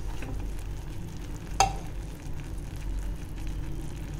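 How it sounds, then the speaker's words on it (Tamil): Mysore pak mixture with ghee being stirred in a pan over a low-medium flame, giving a steady soft sizzle with one brief sharp scrape or clink partway through, no voices. "இது மாதிரி கொஞ்சம் கொஞ்சமாக ஒரு 30 செகண்ட்ஸ்க்கு ஒரு தடவை நம்ம நெய்யை ஆட் பண்ணி குக் பண்ணலாம்"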